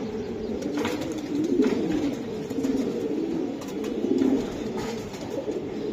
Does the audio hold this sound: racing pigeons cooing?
yes